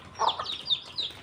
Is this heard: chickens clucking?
yes